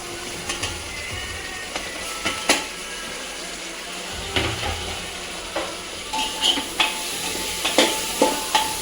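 Cauliflower, potato and peas are stirred in a pressure cooker for veg pulao: repeated scraping knocks of a spoon, irregular and close, over a constant low sizzle.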